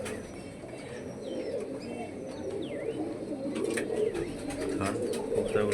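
Pigeons cooing in a coop, a soft, low, continuous murmur of coos that grows a little fuller over time, with a few faint chirps above it.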